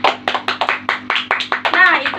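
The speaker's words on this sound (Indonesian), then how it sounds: "Beri tepuk tangan untuk Suci." Classroom clapping for a student who answered correctly: a dozen or so sharp, separate hand claps in an uneven rhythm, close and fairly loud, with a voice briefly overlapping near the end.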